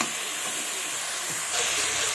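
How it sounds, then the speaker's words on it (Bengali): Tomatoes being stirred into hot oil for a Bengali fish curry with cauliflower and potato, giving a loud, continuous hiss and sizzle with faint scraping underneath and no voice. "এবার এইভাবে একটু নেড়ে দেবো।"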